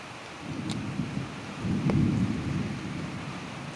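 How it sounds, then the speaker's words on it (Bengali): Low rumbling thunder rolls twice over a steady wash of heavy rain, with no voices. "আকাশ অনেক গুরুম গুরুম ডাকতেছে"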